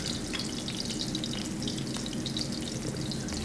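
Onions and crushed garlic sizzle steadily in a hot pan for a chopsuey vegetable dish, a dense, even crackle of frying that holds at a constant level throughout with no voices.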